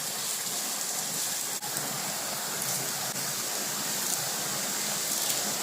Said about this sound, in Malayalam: ഇതെല്ലാം കൂടെ നമുക്കൊന്ന് വഴറ്റിയെടുക്കാം